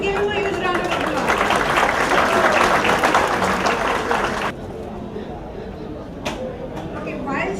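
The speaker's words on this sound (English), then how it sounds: "Please give him a huge round of applause." Loud, dense applause from a large audience at a literary awards ceremony fills the first half, then cuts off abruptly, leaving quieter room noise with a few scattered claps.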